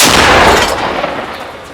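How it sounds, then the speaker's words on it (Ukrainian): A single loud, close artillery cannon blast firing a shell, a heavy boom that decays into a long rumbling roar, in Kharkiv region. "Один снаряд вогонь! Гармата!"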